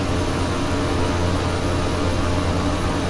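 Steady, loud drone of a King Air twin-engine turboprop in the Flight Simulator X video game, a continuous broadband engine roar with a low hum that holds unchanged throughout, with no talk.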